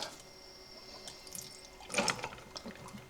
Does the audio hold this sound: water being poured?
yes